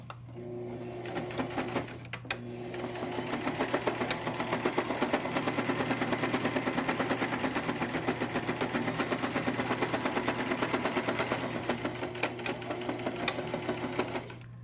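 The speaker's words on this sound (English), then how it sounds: "Fold that one in the same way, about an inch. And sew down here." A sewing machine stitches down a folded fabric edge in one steady, continuous mechanical whirr, close and fairly loud, with a brief pause near the start and no talking over it.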